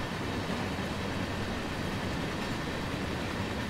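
Holiday express train in Train Sim World 3 running along the track, a steady, dense rumble of wheels and carriage noise that holds constant without pauses or talking.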